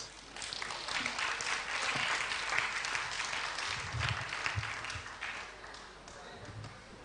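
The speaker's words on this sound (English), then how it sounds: "Let's just give him a bigger round of applause." A church audience applauds after an evening teaching on arthritis, with sustained, dense clapping that swells and holds steady before fading toward the end.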